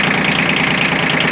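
A Yanmar F155 mini tractor engine runs at a steady idle, close and loud, with an even mechanical churn and no talking over it.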